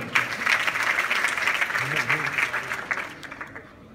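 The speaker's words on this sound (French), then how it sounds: "Est-ce qu'on peut les applaudir également?" An audience at an awards ceremony claps steadily throughout, with voices and cheering mixed in and the clapping thinning toward the end.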